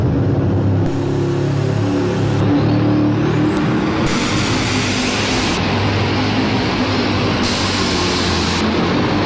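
A 7700 super stock tractor roars at full throttle during a tractor pull at Louisville, Kentucky, its loud, dense engine noise rising in pitch and filling the whole stretch continuously.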